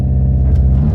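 The engine of a VW GTI rumbles loud and close as it launches from a standstill on a wet road. The deep, steady rumble lasts about a second.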